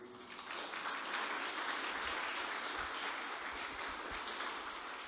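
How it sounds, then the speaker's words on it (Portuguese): A church congregation applauding during a sermon, a continuous even roar of many hands clapping, sustained and fairly distant-sounding for several seconds. "Você pode aplaudir o Senhor?"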